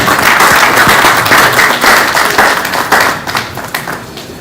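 Loud, dense applause rises from a summit audience for a mobile network's chief executive, full and close at first, then thinning and tapering off toward the end.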